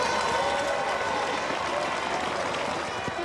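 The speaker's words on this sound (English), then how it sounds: "Pinner gets the applause, and Great Britain go on the attack again." Crowd at a Great Britain hockey match applauding after a goalkeeper's save, a steady wash of clapping and crowd noise throughout.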